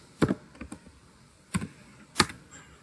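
Three short bursts of computer keyboard typing as a Snort command is entered, crisp and close with brief pauses between the clusters of keystrokes.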